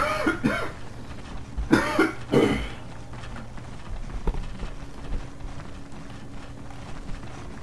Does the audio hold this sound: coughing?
yes